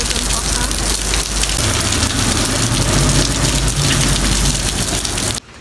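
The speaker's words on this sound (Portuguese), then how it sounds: "Tá chovendo." Heavy rain pours down at a bus stop beside a lake, a loud, dense, continuous hiss of drops on surfaces with a low rumble underneath, cutting off abruptly at the end.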